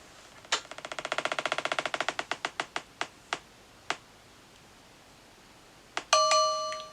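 A prize wheel clicks rapidly as it spins, the ticks slowing and spacing out until it stops, followed by a short chime.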